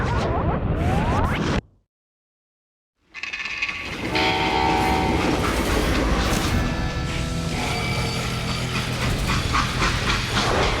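Freight train in the western video game Call of Juarez Gunslinger: loud, continuous rolling clatter and hissing steam with whistle-like tones, broken by a sudden second of silence before the din resumes.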